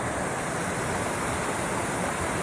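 Steady broadband rush of a waterfall pouring into a swimming hole, loud and continuous, with no voices over it.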